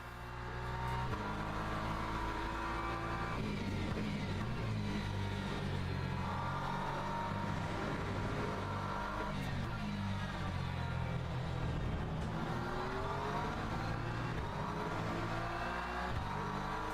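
McLaren race car engine in the Le Mans Ultimate racing game, a steady high-pitched drone rising and falling through gear changes, with other cars' engines audible nearby, continuous for the whole stretch.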